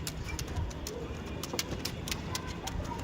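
Andhra pigeons coo close by in soft, repeated low calls over a constant noisy background, with occasional sharp clicks and rustles.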